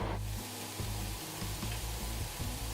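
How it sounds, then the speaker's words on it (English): Onions sizzle and fry in olive oil in a pan on a home stove, a close, steady crackling hiss with faint clinks of stirring underneath and no voices. "Now we're actually gonna start frying up the onion."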